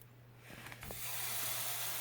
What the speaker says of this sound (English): It should sizzle the minute you hit the pan.